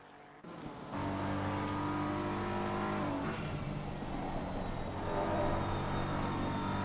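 A race car engine from a Silverstone endurance race game, BMW car, holds a steady loud drone after a brief quieter start, with a rising rev toward the end.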